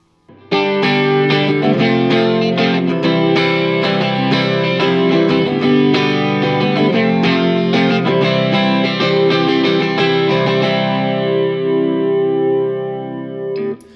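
An electric guitar played through an ENO Music Gemini chorus pedal with the level set high rings out in strummed and picked chords with a shimmering, wavering chorus sheen, loud and alone, the last chord fading away.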